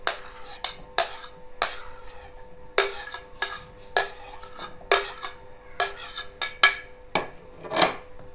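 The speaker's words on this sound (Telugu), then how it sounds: "ఈ దోసకాయ ముక్కలు వేద్దాము." Pieces of cucumber for a Telugu chutney drop into a vessel and are stirred, making a run of sharp, close clinks and taps at an uneven rhythm, with no talking.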